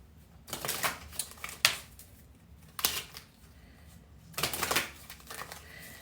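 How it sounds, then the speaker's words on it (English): Several bursts of crisp riffling, like cards being shuffled, come in separate quick runs with pauses between them, close and fairly quiet. "So let me do a quick little shuffle."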